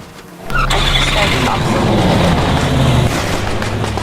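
The fastest car in a Roblox game revving and accelerating: after a quiet start, a loud, sustained engine roar kicks in and holds steady, with a low droning tone.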